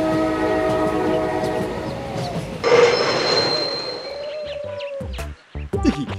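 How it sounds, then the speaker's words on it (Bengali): A passenger train braking to a halt, with sustained wheel and brake squeal, a rising hiss of air around the middle, then clanking of the cars as it settles and goes quiet, all loud and close. "এই ট্রেনটা দাঁড়িয়ে গেল কেন?"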